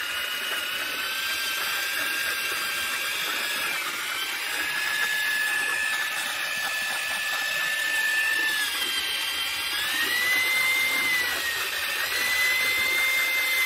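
A power drill fitted with a mixing paddle churns stampable concrete overlay, giving a continuous high motor whine that wavers slightly in pitch as the load shifts, loud and alone.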